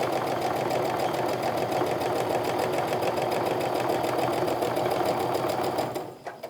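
Sewing machine stitching quilt triangle pieces from fat quarters, a fast steady mechanical chatter of the needle running continuously and close, stopping abruptly near the end.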